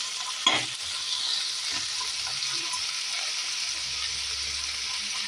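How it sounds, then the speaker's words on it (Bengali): Tomatoes, cashews and a little watermelon juice frying in a kadai, a steady close sizzle with occasional stirring scrapes and no talk. "হালকা আমি এটাকে ভাজা করব"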